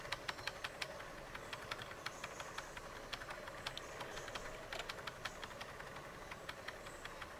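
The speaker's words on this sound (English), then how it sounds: "You guys can probably hear me tapping my down key on my keyboard, like, a lot of times." Rapid, faint clicks of a computer keyboard's down key pressed over and over in an irregular flurry, quiet against a low background hum from a Besiege game session.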